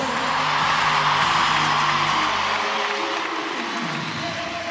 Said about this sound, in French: Applaudissements pour Colline de Villars, s'il vous plaît.